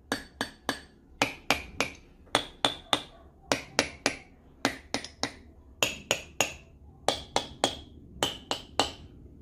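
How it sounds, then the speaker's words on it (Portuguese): A drumstick striking tubes of different sizes: a long series of sharp, close, ringing taps in quick pairs and groups, each with a short bright tone of varying pitch, with no talk. "eu vou pegar a baqueta e vou percutir a baqueta em cima de cada um desses tubos"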